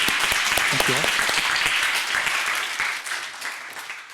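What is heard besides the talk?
audience applause after a panel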